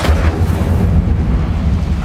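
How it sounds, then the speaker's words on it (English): In a wizarding video game, the Incendio fire spell sets a book alight. A loud, close, steady rumbling roar of flame continues without a break, with no speech. "Incendio!"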